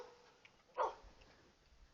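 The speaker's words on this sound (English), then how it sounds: "Dogs are excited. Who are barking?" Excited dogs barking nearby during outdoor cooking; a single short, sharp bark stands out against quiet background noise, with only faint hints of other sounds around it.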